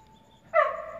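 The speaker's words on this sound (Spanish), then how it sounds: "¿Hay un perro?" A dog somewhere near a Pentecostal church at night, heard in a short burst of whimpering yips or a bark that starts abruptly about halfway through and holds loud to the end, after a quiet opening.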